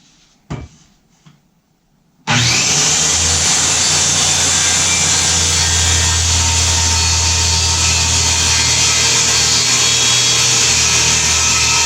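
Circular saw ripping through a plywood sheet, held and guided left-handed: a few faint knocks, then the motor kicks in loud and steady and runs as a continuous harsh whine for the rest of the cut.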